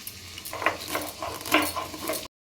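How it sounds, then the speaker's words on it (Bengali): Spices being ground on a traditional stone grinding slab (shil) while cooking dahi mutton, giving close, uneven scraping and knocking strokes in short bursts for about two seconds, with no talk. "অল্প মশলা বলে আমি শিলেতেই গুঁড়ো করে নিচ্ছি।"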